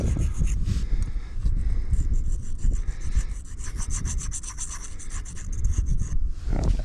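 Brake pads are scratched and rubbed against sandstone outdoors to strip off glaze, a continuous close gritty grinding and scraping that rises and falls with each stroke.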